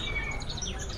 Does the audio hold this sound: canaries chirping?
yes